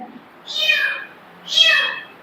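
A cat meows twice, loud and close: two drawn-out, rising-then-falling cries about a second apart, with a quiet room behind them.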